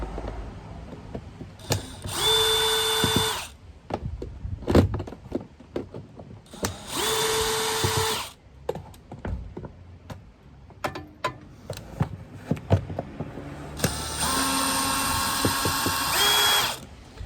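A power drill whirs in three sustained bursts, undoing screws during a VW Golf service, separated by clicks, taps and small metallic handling noises; no talking.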